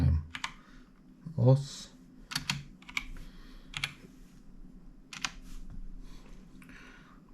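Typing on a computer keyboard, irregular bursts of close, crisp key clicks spread across the clip, with a short stretch of talk near the start.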